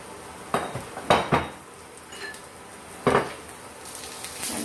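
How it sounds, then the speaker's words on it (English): A utensil scrapes and clinks against a pan as prawn cutlet mixture with freshly ground green chilies gets a quick stir, with a few sharp strokes spread over a low kitchen background. "Just quickly stirring"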